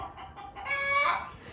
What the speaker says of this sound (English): Making friends with the neighbor's chicken.